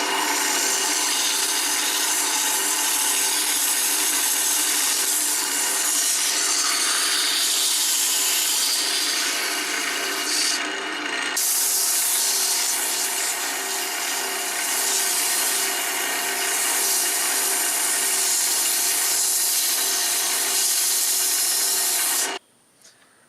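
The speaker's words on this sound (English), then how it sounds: "now that we have it nice and sanded, nice and smooth" A soft wood bottle stopper is sanded by hand with coarse 60-grit sandpaper, a steady close rasping rub that runs nearly unbroken, with a brief pause midway, before stopping abruptly near the end; no talk.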